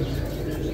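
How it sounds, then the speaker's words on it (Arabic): Pigeons at a Baghdad bird market in Kadhimiya give a brief, soft cooing amid a dense, noisy market background. "أنواع الحمام بمحل سيد أحمد."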